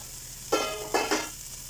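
Cooked rice is dropped into a pan of frying shallots and curry leaves, setting off three quick sizzling bursts over a quiet background hiss, close and clear, with no speech.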